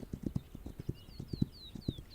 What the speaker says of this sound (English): they're on horses